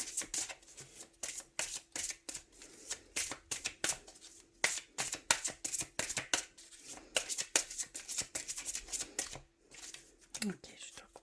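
Tarot cards are shuffled and cut by hand in quick, crisp riffling bursts, close and fairly quiet, with a soft voice speaking in between.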